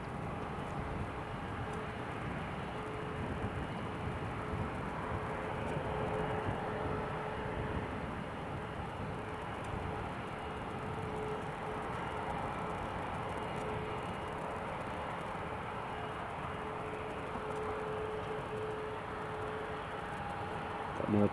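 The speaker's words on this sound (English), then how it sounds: "Sun Express to Antalya is just taxiing along there now." A SunExpress airliner bound for Antalya taxis at Newcastle International Airport, a faint, steady distant jet engine drone holding evenly throughout with no talk.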